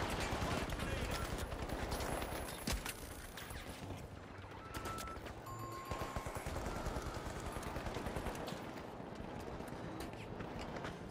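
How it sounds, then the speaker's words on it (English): Automated sentry guns in The Finals firing steadily in rapid bursts, a constant chatter of gunfire mixed with footsteps and chaotic game action for several seconds, loud and continuous. "those sentry guns finally overwhelm me"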